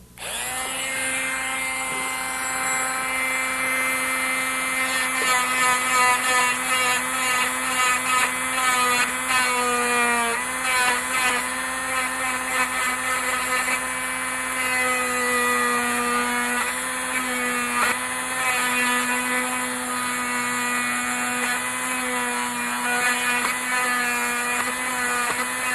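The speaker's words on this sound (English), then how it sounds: "We're going to go in and grind this out a little bit." A rotary tool spins at high speed with a grinding bit as it works into a resin model, giving a steady, loud, high-pitched whine throughout with slight dips where the bit bites into the material.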